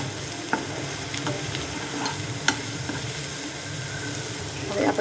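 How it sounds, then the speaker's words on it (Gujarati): Carrots and capsicum stir-frying in a pan produce a continuous close sizzle, with a few sharp scrapes and clinks from stirring over the top. "હવે આપણે ગાજર અને કેપ્સિકમ નાખી દીધા છે અને આપણે થોડીક વાર ચોળવી દઈશું."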